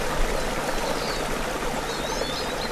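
A forest brook, the Křeptovský stream, bubbling and streaming continuously, a dense, fairly loud, even rush of water heard close by with no other sounds.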